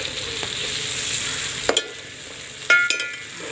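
Onions frying in a pan in a home kitchen, a steady close sizzle throughout with a few sharp scrapes and clicks from stirring, no voices over it.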